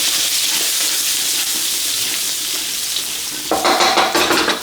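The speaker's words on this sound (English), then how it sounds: "Put the garlic stir fry there" Crushed garlic stir-frying in hot oil in a wok for a Chinese home dinner, a steady loud sizzle throughout that swells with sharper crackling bursts near the end.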